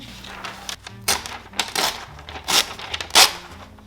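Scissors cut pages out of a magazine close up, giving a series of irregular crisp snips and paper rustles, each louder cut standing out over quiet handling.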